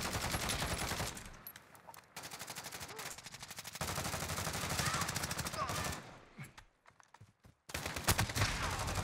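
Rapid automatic gunfire from a CR56 AMAX rifle fired from the hip in Call of Duty, in sustained dense bursts with brief pauses, loud and continuous, with faint voices underneath.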